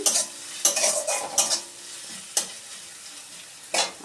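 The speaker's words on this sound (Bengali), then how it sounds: "রসুন কুচি, আমি এটাকে একটু ভেজে নেব।" Chopped garlic is stirred in a hot pan, giving a soft sizzle broken by several sharp scraping strokes of a utensil, close and fairly quiet with no talking.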